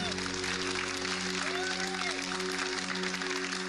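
An audience at a piano club music show applauds. A soft, even patter of clapping runs throughout over a low, steady tonal hum.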